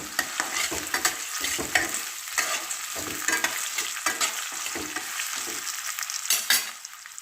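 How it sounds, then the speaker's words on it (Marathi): Raw potato pieces with curry leaves sautéing in a pan, a continuous bright sizzle broken by repeated scraping stirs of a spatula, close and fairly loud with no talking. "थोडेसे कढीपत्त्याचे पाने घालून बटाटे छान परतून घेऊया"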